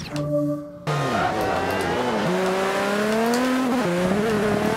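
Race cars in the video game Forza Motorsport 5 roar loudly with rising and falling engine pitch through gear shifts, continuous and close, with no talk.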